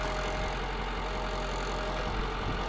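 A 2010 Ford F450 two-wheel-drive ambulance with a 6.4 diesel engine idles steadily nearby, giving a loud, even rumble with a rough knocking clatter and no talk over it.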